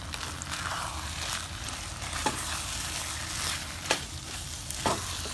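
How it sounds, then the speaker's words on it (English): Bacon cheeseburger dip is stirred in a hot pan, a constant sizzle under soft scraping strokes with a few sharper knocks of the utensil against the pan, nearby and without talk. "Just gonna keep stirring this to combine"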